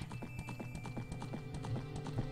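Rapid, steady clip-clop of a horse galloping in The Legend of Zelda: Ocarina of Time, the hoofbeats close and fairly loud over a low droning game background, with no talking.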